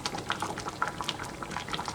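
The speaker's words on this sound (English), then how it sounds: "it is boiling away quite nicely" Beef stew bubbling in a pot on the stove, a quiet steady boil with soft pops and gurgles and no voices.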